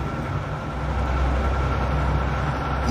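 A very old, badly maintained train in the video game Transport Fever 2 rumbling steadily and loudly, a continuous broadband roar with heavy low-end drone, no talking.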